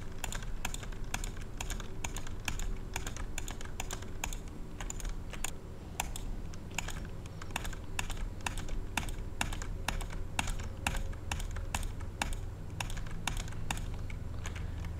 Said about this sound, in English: the only bad part about this mouse is the clicks are really loud